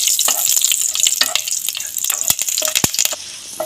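Nigella seeds, radhuni and green chilies sizzle in hot oil as a tempering for a hilsa with brinjal and mustard dish. A loud, steady hiss runs throughout, broken by sharp crackles and pops, with no voices.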